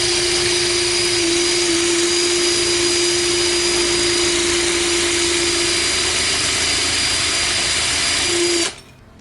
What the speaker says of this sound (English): So I'm gonna turn the drill on.